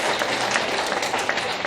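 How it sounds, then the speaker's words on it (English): An audience at a moot court competition final in Kenya breaks into steady, dense applause in an indoor hall, with scattered claps throughout. "A round of applause for them."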